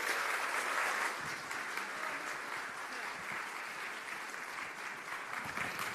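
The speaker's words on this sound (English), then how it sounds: "give a big round of applause for Jackie Asco" Audience at a national pro-life conference claps for a speaker coming to the stage, with steady, moderately loud, dense applause that continues throughout.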